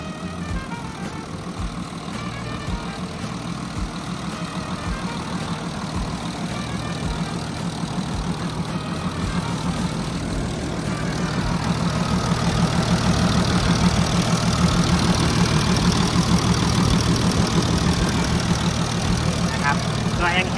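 An Isuzu DA120 six-cylinder diesel engine on a Sakai TS7409 pneumatic-tyre road roller idles with a steady, low knocking rumble, close by, growing slightly louder midway; someone talks over it.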